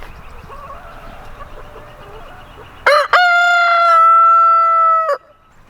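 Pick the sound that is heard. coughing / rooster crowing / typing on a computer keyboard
rooster crowing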